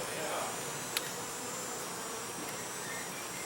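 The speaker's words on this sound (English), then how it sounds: "The bees just come up right up to the edge of the frame." Honeybees swarming over an opened backyard hive during an inspection, with a dense, steady buzzing drone all around, close and continuous, and one sharp click partway through.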